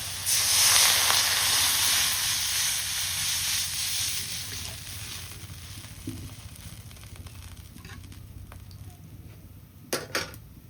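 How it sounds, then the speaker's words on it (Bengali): Water hits a hot pan of fried pointed gourd and black lentils in a village kitchen, bursting into a loud, steady sizzle and hiss that slowly fades, with a couple of faint clinks near the end. "এখন পানি দিয়ে দিই।"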